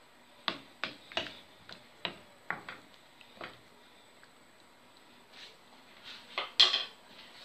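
Stuffed cabbage rolls in tomato sauce being stirred in a pot, with a string of distinct spoon knocks and clinks against the pot in an irregular rhythm, close and fairly clear, with no voices.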